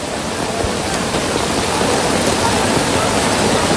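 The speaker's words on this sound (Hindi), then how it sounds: "ये दुकानों के ऊपर जो टीने हैं ना, उस टीन पे से कैसा पानी गिर रहा है" Heavy monsoon rain pours off the tin roofs of shops in Haridwar, a loud, dense and continuous rush of falling water and splashing with no pause.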